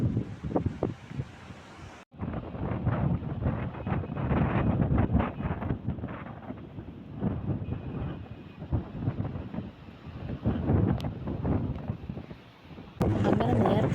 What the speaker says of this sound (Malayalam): അതിഭയങ്കര കാറ്റ് കാരണം നമ്മൾ കുറച്ച് നേരം വണ്ടി ഒതുക്കിയിട്ട് അവിടെ നിൽക്കുക